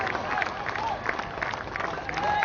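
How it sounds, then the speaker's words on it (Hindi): Stadium crowd applauding a batsman's century at a Karnataka versus Baroda Vijay Hazare semi-final, a steady broad wash of clapping and crowd noise at moderate level throughout, with a commentator's voice running over it. "ये शतक का भरपूर तालियों के साथ अभिवादन किया"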